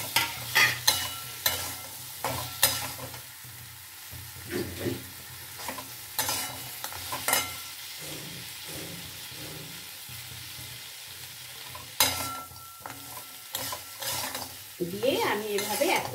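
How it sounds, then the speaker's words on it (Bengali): Bori and eggplant stir-fried in a pan, with repeated scraping stirs and clinks of a utensil against the metal over a steady low sizzle, loud and close, with no talk. "আমি এভাবে এখন কষিয়ে যাব।"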